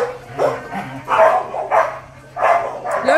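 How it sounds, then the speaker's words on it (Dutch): A dog nearby barks loudly and repeatedly, giving about four or five sharp barks in an uneven rhythm with short pauses between them. "Leuke hond hoor."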